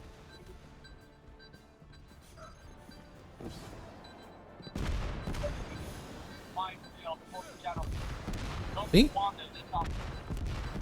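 Summoned explosives from an airstrike-style ability burst around the player in Destiny 2, a cluster of sharp booms and crackling blasts in the second half, with someone talking over the game audio.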